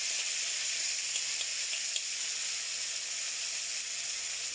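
A ground paste of ginger, coriander and cumin fries in a pan, giving a continuous close hissing sizzle with a few faint stirring scrapes and no talking.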